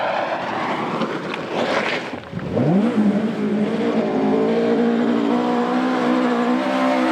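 2WD rally car at the South Canterbury Rally in New Zealand, its engine loud and close, sweeping upward in pitch and then holding a strong steady drone after a brief splashing rush as it hits a water crossing.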